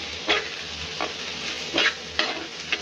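Vegetables seasoned with Maggi masala frying in a pan, a steady close sizzle broken by about five sharp scraping stir strokes spaced unevenly.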